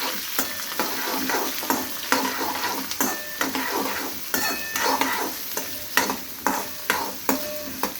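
Onion frying in a pan for fodni bhakri, made from leftover bhakri, with a spoon stirring and scraping in a steady rhythm of sharp scrapes over a continuous close sizzle.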